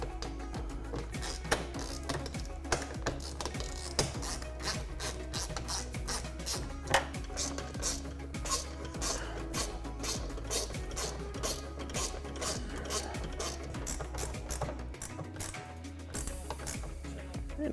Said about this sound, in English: Now we're going to go back through and tighten them all up.